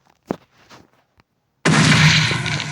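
A few faint clicks and thumps, then a sudden loud, sustained roaring blast of explosions in Minecraft that fills the rest of the clip.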